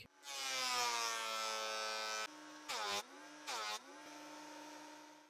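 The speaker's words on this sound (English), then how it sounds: "Now I'll pass this piece through the planer, setting it to exactly 12 millimeters thick." A thickness planer feeds a piece of reclaimed wood down to 12 mm, a close, steady high-pitched whine with a louder cutting surge at the start and two short bursts as the board passes through.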